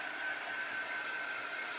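A handheld air dryer that blows cool air rather than heat drying a craft project runs in a steady, even whoosh with a faint tonal whine, with no talking.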